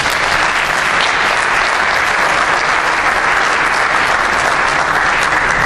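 An audience at a college recruitment forum applauds, a dense, steady clapping of many hands filling the room throughout.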